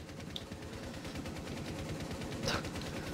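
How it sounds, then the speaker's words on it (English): Rapid automatic gunfire in Rainbow Six Siege, a full magazine emptied in a dense continuous burst that fills the whole stretch at steady loudness, with no talk over it. "Unloads full magazine."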